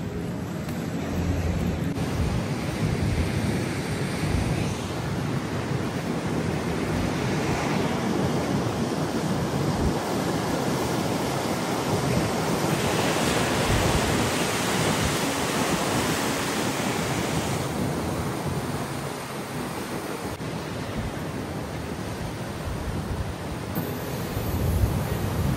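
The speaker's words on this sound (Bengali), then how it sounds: "এখান থেকে খুব সুন্দরভাবে ঢেউ দেখা যাচ্ছে, জলের খুব স্রোত দেখতেই পাচ্ছেন আপনারা এখানে।" Ocean waves surging and breaking along the rocky coast at Porto, a steady broadband roar of surf with wind buffeting the microphone, continuous and close throughout with no voices.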